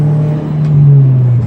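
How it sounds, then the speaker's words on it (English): A 2005 Saab 9-3 Aero turbo engine, running after water pump work, holds a loud, steady, deep exhaust drone close by that swells slightly midway, with no voices. "got a pretty sweet exhaust note going"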